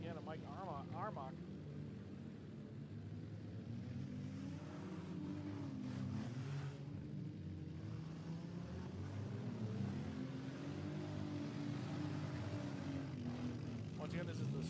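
Stock front-wheel drive race cars with minimal modifications run a race, their engines a steady distant drone under continuous commentary, rising and falling as the pack circulates.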